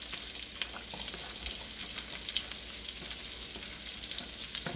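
Carrots and celery sizzle steadily in a hot pan for a shrimp curry stir-fry, a continuous close crackle with small pops and stirring scrapes throughout, no voices.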